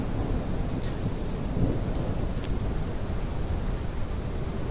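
Heavy rain pours steadily in the Gothic Unreal Remaster video game, a dense, continuous broadband wash with low rumbling underneath, constant and enveloping throughout.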